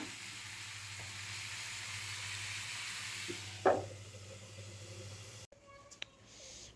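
Vegetables fry in a pan with a steady, quiet sizzle. A single clatter sounds midway, then the hiss cuts off abruptly near the end.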